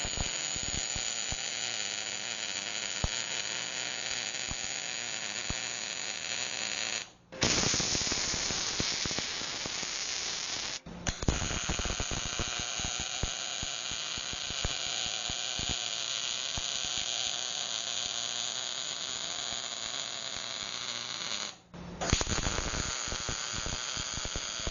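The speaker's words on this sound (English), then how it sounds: "Now I'm going to tack weld the 2 pieces together." Two metal pieces are tack welded together. The welding arc gives a continuous crackling, sizzling buzz for long stretches, broken by a few short gaps, and it sounds close and fairly loud.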